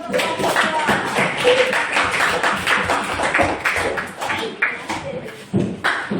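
A classroom of children and their teacher claps for two presenters, a brief burst of close, uneven hand clapping that fades into scattered claps.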